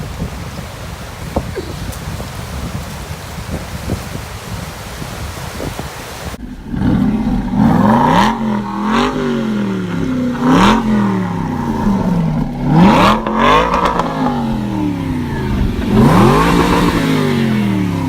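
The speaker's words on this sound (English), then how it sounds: "It's a beautiful pace to be driving in this funky camper van" A funky camper van drives along. Rain-like road hiss comes first, then a louder engine note rises and falls through repeated gear changes.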